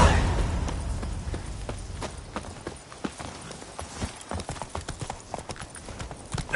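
Roach the horse gallops in The Witcher 3, hooves clip-clopping in a quick, steady rhythm that stays close and clear for several seconds and is heard alone.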